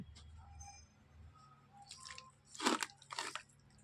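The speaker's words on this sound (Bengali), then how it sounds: "পেঁয়াজটা ঘষে রেখেছিলাম দিয়ে দিলাম এবার আমি একটু তেল দেবো হুম এটাকে আমি মাখিয়ে নেবো" Grated onion and oil being mixed by hand in a bowl, soft wet squelches and drips, quiet at first, then a few louder sticky squishes near the end, heard alone without talk.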